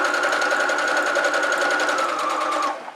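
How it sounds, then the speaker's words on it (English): A sewing machine runs a continuous fast, close whirr while sewing a fabric medical face mask, then winds down and stops just before the end. "you're going to sew down half an inch"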